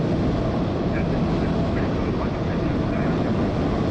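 A Boeing 737 jet comes inbound in Microsoft Flight Simulator 2020 at Toulouse airport, with a constant loud broadband engine roar that holds steady throughout.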